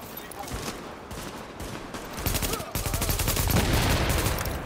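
Gunfire in The Division, a rapid spray of shots that thickens into a louder, sustained barrage in the second half, with excited voices cheering over the shooting.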